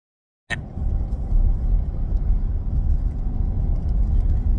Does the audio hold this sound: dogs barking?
no